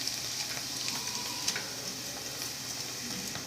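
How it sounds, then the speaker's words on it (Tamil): Thick flattened rice (poha) frying in hot oil for a crispy homemade snack mixture, a continuous close sizzle with small crackles and pops scattered throughout, no talking. "இப்போ வந்து கெட்டி அவல் அதை பொரிச்சிக்கலாம்."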